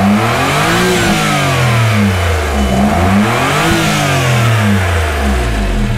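A JDM mini van engine revs up and down repeatedly under the open hood, loud and close, its pitch rising and falling in smooth sweeps over a steady idle.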